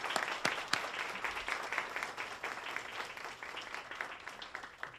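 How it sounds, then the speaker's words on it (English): An award ceremony audience breaks into steady, even applause that carries on for several seconds with a few sharper claps standing out, moderately distant and faint. "Please join me in giving her a big round of applause."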